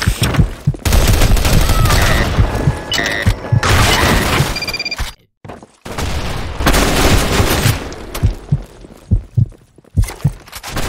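Video game combat with dense bursts of rapid gunfire and heavy booms, including a grenade blast, loud and continuous with a brief gap of near silence midway.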